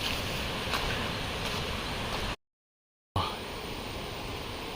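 Steady broadband roar of rushing water at Kappimala waterfall in Kannur, Kerala, continuous and fairly loud, interrupted by a brief moment of silence before resuming.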